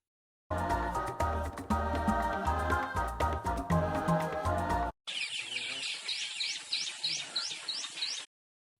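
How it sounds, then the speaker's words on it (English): Birds singing in the African wilderness, with repeated high chirps and tweets in the second half, close and clear after a stretch of dense music. "Africa is also a haven for a plethora of bird species, with their vibrant colors and melodious songs filling the air"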